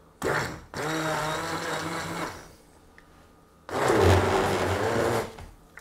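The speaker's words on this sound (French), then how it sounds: "On va mettre la coriandre. Voilà. Et on va mixer tout ça. Donc avec le petit robot magique comme ça." Small food processor whirring as it purees coriander into a cream soup, two loud close bursts of motor noise separated by a brief pause, with no one speaking over it.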